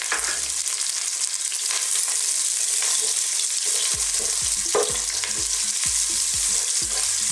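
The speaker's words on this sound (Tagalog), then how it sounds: "gisa-gisa lang po. Sunod na po natin yung ating sibuyas." Onion sautéed with garlic in a pan for monggo guisado, a loud, steady oil sizzle with scraping stirring clatters recurring near the end, with no talk over it.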